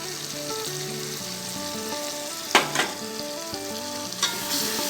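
Turmeric, salt and chillies go into a hot pan of softened tomatoes for dhaba-style dal, giving a steady close sizzle with a few sharp spoon scrapes and clinks of stirring around the middle.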